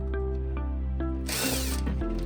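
A power tool driving out the bolts that join the motor to the base of a cushion bed, with a short whirring burst in the middle of steady mechanical hum and a few faint clicks, and no voices.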